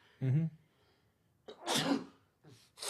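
A single loud sneeze, a short intake of breath and then a sharp burst, close up with no talking.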